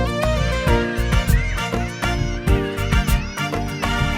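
Cartoon cats meow repeatedly in a Hindi children's song, bright sung meows riding over music with a steady beat.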